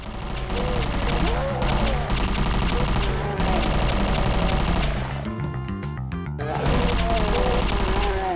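Rapid SMG fire in a Doom mod video game, loud bursts of fast repeating shots with brief pauses between them, and a voice talking faintly underneath.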